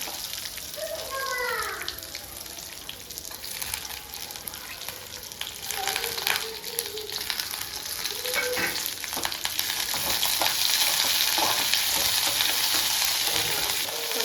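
Curry leaves and garlic sautéing in a pan, a steady crackling sizzle with a few scraping stirs throughout, growing slightly louder toward the end, with no one speaking.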